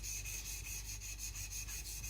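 A Shibata Kotetsu gyuto blade rubbed back and forth on a Shapton Pro 220 whetstone, making a quick even rhythm of soft gritty scrapes, close and quiet with no voices.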